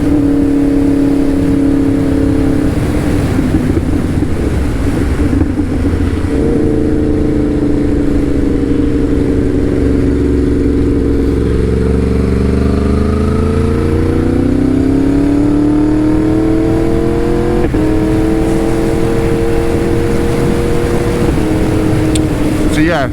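A car's engine hums and climbs through its gears while driving around a roundabout, the steady tone shifting as it slows and accelerates, with cabin noise throughout.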